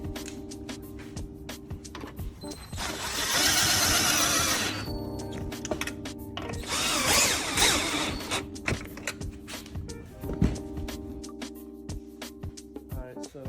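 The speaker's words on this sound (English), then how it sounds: "we're going to tighten down those nuts on the airbag" A power tool tightens nuts on an airbag in an F-150 or F-250/350 crew cab, whirring in two bursts of a couple of seconds each, followed by clicks and handling noises.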